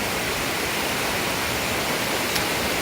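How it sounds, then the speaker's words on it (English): Roberto Barrios waterfalls in southeastern Mexico roar with a steady, dense wash of falling water, close and loud, unbroken for the whole stretch with no voices. "Cascadas Roberto Barrios, or the Roberto Barrios waterfalls"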